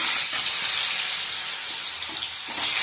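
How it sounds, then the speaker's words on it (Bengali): Banana pieces sizzle in hot oil in a bright, continuous crackle that stays close and steady, with a slight swell toward the end. "এই কলাগুলো দিচ্ছি তেলে"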